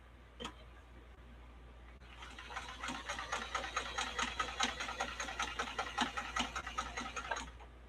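A vintage Kenmore sewing machine runs a straight stitch after a short start, its needle ticking in a fast, steady mechanical rhythm with a motor hum underneath, moderately close and with no talking.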